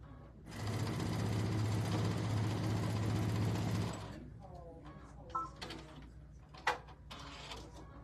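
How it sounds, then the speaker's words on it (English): A sewing machine stitches quilted table runner pieces in one steady, close, whirring run of about three seconds. It then stops, followed by a few light handling knocks and rustles. "now I'm gonna sew this to this."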